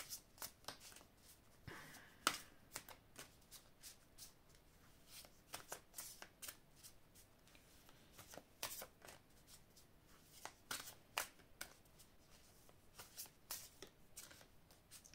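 Oracle cards being handled and shuffled by hand, a soft run of papery riffles and taps with irregular bursts, fairly quiet and close, with no talking.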